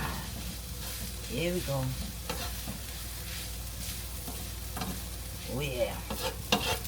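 Philly cheesesteak meat and melting cheese sizzle on a hot griddle in a steady hiss, with someone talking briefly over it and a few sharp scrapes near the end.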